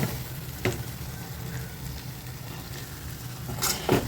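Spicy chicken fry sizzling in oil in a pan on low heat, a steady close crackle with a couple of louder stirring scrapes and bursts, no talking.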